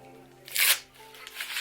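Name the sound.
ripping off tight product packaging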